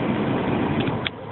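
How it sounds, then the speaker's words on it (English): The rear air-conditioning blower in a Land Rover Discovery 2 4.0 V8 rushes as a steady, loud broadband whoosh with a brief faint tick near the end. "That is the sound of the rear AC"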